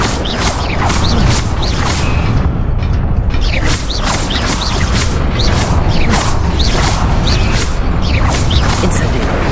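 Fire spell being cast over and over in the Hogwarts Legacy video game, loud bursts and whooshing blasts repeating in a steady rhythm with mechanical clanks underneath, no talking.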